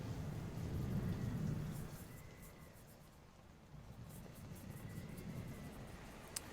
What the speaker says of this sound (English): It is stormy out there,